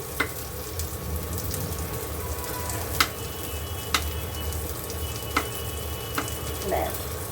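Chopped onion and tomato sauté in a hot pan for chicken, giving a steady close sizzle. A spatula strikes and scrapes the pan now and then, making sharp irregular clicks over the frying.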